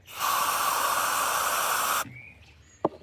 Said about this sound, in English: I use this carb spray.